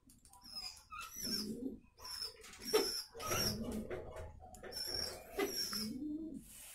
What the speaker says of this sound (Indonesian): Ini burung yang sedang sakit.